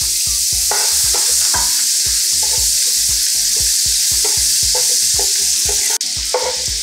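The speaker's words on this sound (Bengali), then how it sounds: "পেঁয়াজটা হালকা ব্রাউন হওয়া অবধি ভাজতে হবে" Chopped onions fry in hot oil with garam masala for a Bengali fish stew, loud constant sizzling under regular rhythmic stirring knocks from a spatula against the pan, with no voices.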